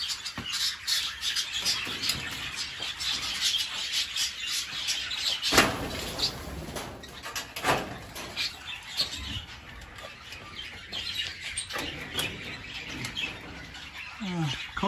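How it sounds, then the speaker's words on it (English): Pigeons and other birds in an aviary, a busy layer of chirps, squeaks and occasional wing flaps with a few louder calls standing out, with some faint background voices. "You may hear some pigeons, as I've got a few pigeons"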